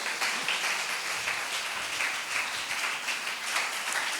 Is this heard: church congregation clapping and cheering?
yes